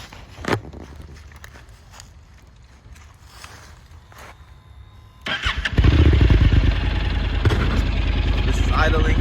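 A Honda NC700X motorcycle fitted with a Delkevic exhaust starts and settles into a loud, steady idle after some quiet handling and footsteps near the mic.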